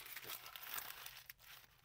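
Rice paper being crumpled up by hand for printmaking, a faint, brief crinkling and crunching heard alone at close range.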